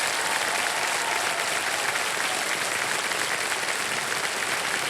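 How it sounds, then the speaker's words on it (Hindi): Studio audience applause fills a television quiz show set for the whole stretch, a dense, steady wash of clapping hands with no pauses and no distinct voices. "ताली बजती रहे इनके लिए।"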